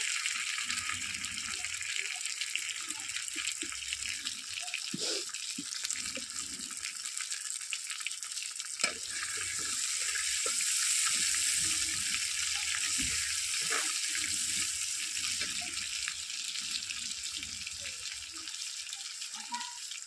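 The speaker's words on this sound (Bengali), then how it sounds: "এতে আমি পেঁয়াজ দুটো দিয়ে দিচ্ছি তেলও দিয়ে দিচ্ছি" Onions frying in oil in a pan, with a steady bright sizzle running the whole time, a few clinks and stirring scrapes of a utensil, and the sizzle swelling slightly midway.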